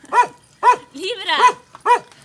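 A dog barks nearby in sharp single barks, spaced about half a second apart, with a whining, yelping sound in the middle.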